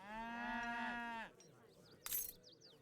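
A single long, loud cattle moo from the strategy game Age of Empires III, followed by a short quieter rasping animal sound and faint chirps.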